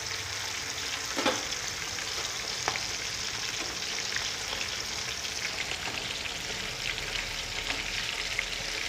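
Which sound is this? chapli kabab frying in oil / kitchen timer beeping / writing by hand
chapli kabab frying in oil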